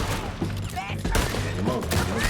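Gunfire in the Western video game Red Dead Redemption 2, with a dense run of shots and cracks layered under continuous shouting voices and game noise, steady and loud throughout.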